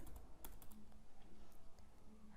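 Computer keyboard keys pressed while working in Tally Prime accounting software, a few separate clicks and taps at a steady, fairly quiet level with a low background hum and no talking.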